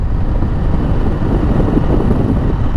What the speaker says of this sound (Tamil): 80 நல்ல காற்றடிக்குது